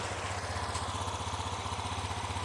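A small Honda Scoopy motor scooter engine (2021) idles close by with a steady, rapid low putter and no voices.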